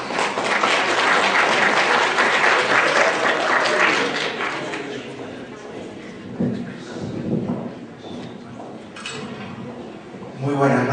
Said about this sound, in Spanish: Recibamos con un fuerte aplauso, por favor, entonces al PhD Emilio Cerezo.